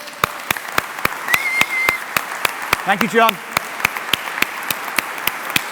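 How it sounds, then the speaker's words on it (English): An audience at a Visit Somerset talk applauds John Turner and his team with steady, rhythmic clapping. A speaker's voice briefly cuts through the clapping. "I would like to suggest that we all give John Turner and the team at Visit Somerset a really, really big round of applause"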